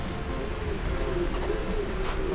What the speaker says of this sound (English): These are Gino Klitschko pigeons.